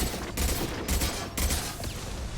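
Sustained gunfire in the video game Mass Effect 2, a dense, loud barrage of overlapping shots with three heavier surges, close and continuous with no talk over it.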